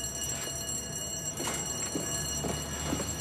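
A high-pitched alarm tone sounds continuously beneath a rumbling background noise, with no one speaking.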